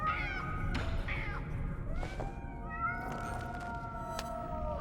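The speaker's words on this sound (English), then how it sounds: "Oh my god, are those actual cats?" Several cats meow in Nine Sols, a series of rising and falling mews spread over a few seconds against a steady low rumble of game ambience, with no talking.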